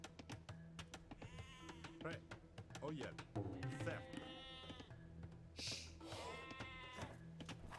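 Bleating sheep in a video game being killed by villagers, with a run of repeated wavering cries at moderate loudness over a low, constant game background.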